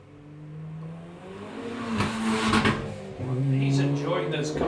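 Car engine revving during a club sprint event at Golspie's Littleferry layout, rising and falling in strong pulls as it accelerates, heard fairly near under a commentator's continuous talk.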